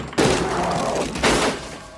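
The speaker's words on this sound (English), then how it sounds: "And quit banging on the door." Two heavy thuds of someone banging on a door in a comedy movie scene, one near the start and another about a second later, each loud and booming, with no speech.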